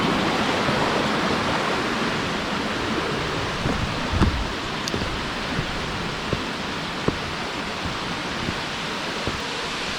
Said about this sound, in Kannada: ನೋಡಿ ಫಾಲ್ಸ್ ನೋಡಿ